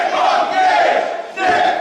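A wrestling crowd at an IWA East Coast deathmatch event chants Nick Gage's name, loud and close, in two rhythmic rising bursts of massed voices.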